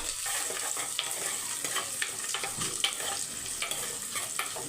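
Small shallots fry in well-heated oil for a kuzhambu, giving a close, steady sizzle marked by a series of light scraping stirs against the pan, with no voices.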